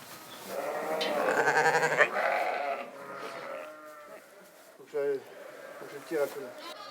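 Sheep and lambs bleat on a farm during lambing, with a ewe and lambs nearby; several wavering bleats come loud and close, some overlapping, and someone speaks between them.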